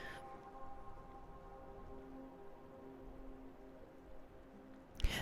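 Steady rain falling in the game Skyrim, a soft, continuous hiss with faint tonal hum beneath, ending with a brief louder knock.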